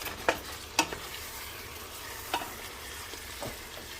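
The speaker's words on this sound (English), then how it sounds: "Make sure you keep it stirred up nice, you know." Vegetables for vegan chilli sizzle in a pot under a low, even frying hiss, with a few sharp utensil knocks and scrapes from stirring near the start and middle, no talking.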